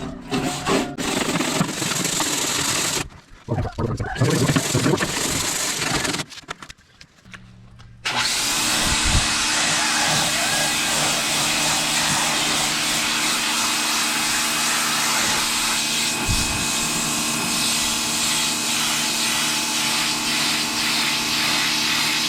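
A pressure washer runs steadily after a few seconds of scattered, intermittent noise, making a loud continuous hiss over a low motor hum that stays even to the end.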